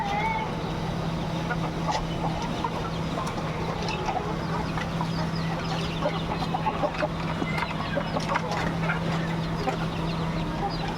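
Layer roosters and desi chickens cluck and call from cages on a rooftop, a busy, continuous stream of close fowl sounds over a steady low hum, with faint talk now and then.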